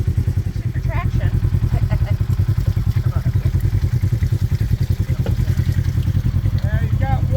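A brand-new Polaris RZR XP 1000 side-by-side churns through deep, thick mud, its engine droning loud and steady throughout with a pulsing rumble and occasional splashes and clatter, while voices shout briefly over it.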